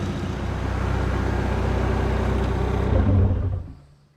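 A rear-wheel-drive Mk2 VW Scirocco with a 1.8T 20v engine runs steadily at operating temperature, a dense low rumble that swells briefly before dropping away at the end, with no talk.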